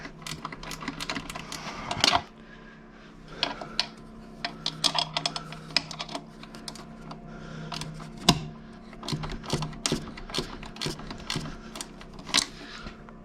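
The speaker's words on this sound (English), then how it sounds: "It's nice to have a ratcheting wrench." A ratcheting wrench clicks in quick irregular bursts of sharp ticks, close and fairly quiet, during work on a Triangle Tube Challenger boiler fan motor.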